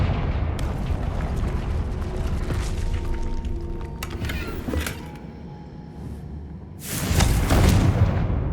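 A fire spell bursts in the fantasy game Hogwarts Legacy, a loud explosive whoosh near the end rising over a steady rumbling in-game background of crackles and hits.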